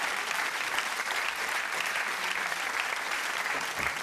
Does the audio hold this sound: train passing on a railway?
no